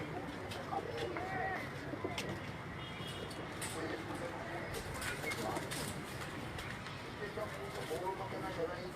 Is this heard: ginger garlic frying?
no